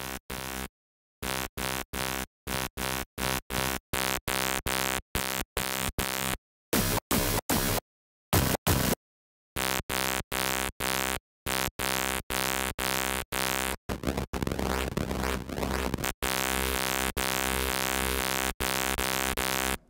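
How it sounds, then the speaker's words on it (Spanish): A distorted synth bass built in Serum plays in repeated short gritty bursts separated by silences, then settles into longer sustained buzzing notes, loud and harsh with no voice. "Ahora ya podemos empezar a insertar efectos. Por ejemplo, ¿qué tal si probamos distorsión?"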